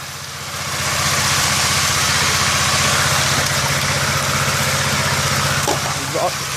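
A high banker gold sluice pump engine runs at idle, a steady low drone with vibration held close by for the whole stretch, with faint clicks and water noise near the end.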